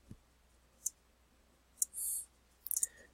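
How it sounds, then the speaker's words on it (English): A computer mouse clicks an OK button. A few sharp, quiet, close clicks are spaced out over a few seconds, ending in a quick cluster of clicks, with no voices. "simply click the OK button"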